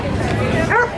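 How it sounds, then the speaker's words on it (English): A dog gives one short bark at an outdoor dog meet-and-greet in downtown Charleston, heard over a crowd's busy chatter and nearby talking. "A dog meet and greet."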